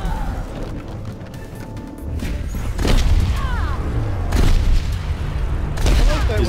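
Pharah's concussive bounce rocket going off in Overwatch during a match on Temple of Anubis: several loud, booming blasts spaced a second or two apart over a steady bed of game noise, with no talk.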